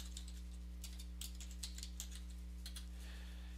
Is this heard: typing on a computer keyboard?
yes